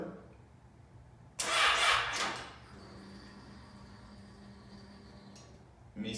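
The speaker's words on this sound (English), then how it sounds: "I can hear the fuel pump working." A Yamaha motorcycle fuel pump works with a short loud burst of noise, then a steady, faint, whining hum that continues evenly to the end.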